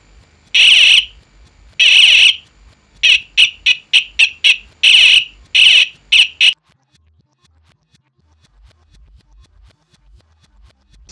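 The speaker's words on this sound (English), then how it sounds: "So now I put a little bit of hot glue in this hole of this buzzer, so now it's not as loud." A homemade continuity tester's buzzer sounds loudly in bursts as its leads touch: two long tones, then a quick run of short beeps, followed by near silence.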